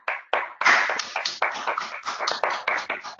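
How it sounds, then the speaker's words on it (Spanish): Scattered applause from participants clapping at home during an online meeting, a series of separate sharp hand claps with uneven rhythm, some louder and closer than others, no voices. "les propongo un aplauso para este encuentro"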